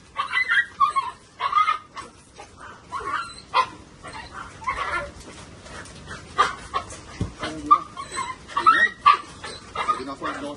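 Dogs in a heavy cage being moved whimper, yip and pant in a busy, restless stream of high whines and short yelps, close by, with people talking intermittently among them.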